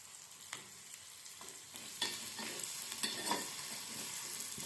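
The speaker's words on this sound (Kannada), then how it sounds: "ಚೆನ್ನಾಗಿ ಫ್ರೈ ಆಗಲಿ." Onion, tomato and curry leaves fry in a pan for shavige uppittu, giving a steady broadband sizzle with scraping stirs and small pops. The sound is close and even, with no talk.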